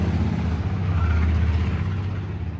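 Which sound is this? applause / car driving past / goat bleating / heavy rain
car driving past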